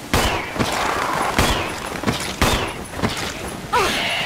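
Rapid bursts of video game gunfire from Resident Evil HD Remaster crack repeatedly, evenly spaced shots with sharp attacks and echoing tails, loud and close, with no voices.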